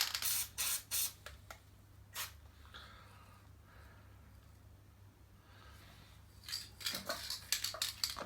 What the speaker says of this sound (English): So I've got my copper grease using the spray.